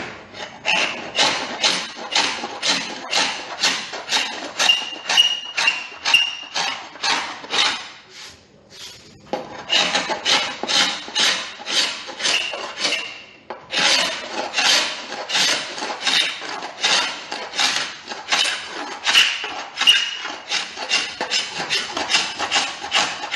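Rhythmic back-and-forth sanding of old, brittle, dry linseed putty on a Victorian sash window, a steady run of close, loud rasping strokes with a brief pause partway through and no talking.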